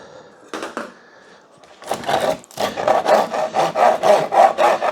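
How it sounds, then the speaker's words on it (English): Beeswax scraped off hive foundation in quick, close rasping strokes, a couple of short scrapes first, then a rapid run of rhythmic scraping. "I can scrape that entire thing off"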